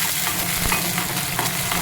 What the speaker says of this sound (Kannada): ಇದಕ್ಕೆ ನಾನು ಹಸಿಮೆಣ್ಸಿನ್ಕಾಯಿ ಹೆಚ್ಕೊಂಡಿದ್ದು ಸಣ್ಣಗೆ ಬಿಸಿ ಮಾಡಿ ಅದನ್ನು ಹಾಕ್ತಾಯಿದ್ದೀನಿ.